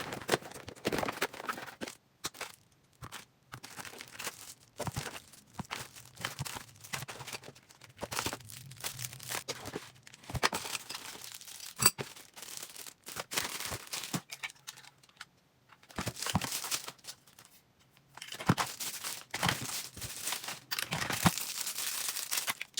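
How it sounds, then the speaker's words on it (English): Packaging of a set of two battery-operated 31-inch modern wall sconces being unwrapped: irregular bursts of crinkling, rustling and tearing plastic and paper, close and fairly loud, with short pauses between handling. "So let's unwrap it."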